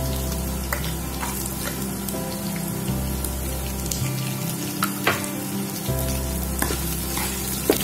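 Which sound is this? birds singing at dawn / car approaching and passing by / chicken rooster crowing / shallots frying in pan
shallots frying in pan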